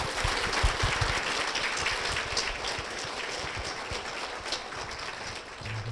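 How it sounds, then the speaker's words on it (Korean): A church audience applauds to welcome a guest onto a Korean Christian broadcast, with sustained, dense clapping throughout that tapers slightly near the end. "박수로 모시겠습니다."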